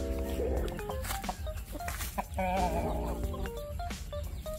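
Close, busy chickens cluck and squawk continuously in a rural yard, several birds overlapping, with faint voices in the background.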